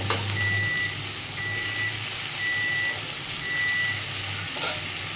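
Pieces of raw banana tipped into a pan of softened frying onions, giving a steady close sizzle with scraping from stirring, while a faint high beep repeats four times at even intervals in the background.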